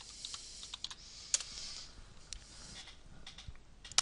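Computer keyboard typed on for a software search, a quiet run of irregular key clicks and taps with brief pauses, close and alone with no talking.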